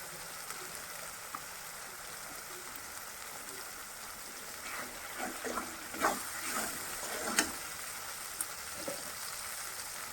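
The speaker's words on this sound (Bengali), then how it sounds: "ভালোভাবে নেড়ে চেড়ে কষিয়ে নেব" Cabbage curry with turmeric being stir-fried in a pan, a soft continuous sizzle with scraping stir strokes rising in the middle, fairly faint and close, no talking.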